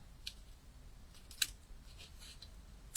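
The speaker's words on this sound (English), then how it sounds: "So we'll just trim that one off a bit because I don't want that piece sticking out." Scissors trimming a glued paper piece for card making, a few quiet, close snips spaced irregularly over a hushed background.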